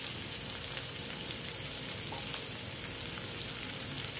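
Garlic fries in the leftover pork adobo marinade, giving a steady, soft sizzle with faint crackles throughout and no talk.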